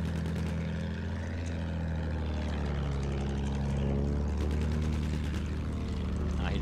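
Droning propeller plane in Battlefield 1, a steady buzzing engine hum with a low throbbing beat that holds throughout, with brief gunfire-like crackles near the end.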